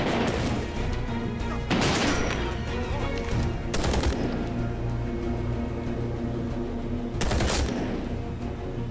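A PKP machine gun fires in the shooter Medal of Honor Warfighter, loud sustained automatic bursts with rapid continuous rattling and several sharper blasts punctuating the barrage.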